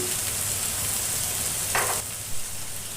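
Mustard oil sizzles steadily in a pan while jackfruit cooks, a dense even hiss close by with one brief louder burst of spatter partway through.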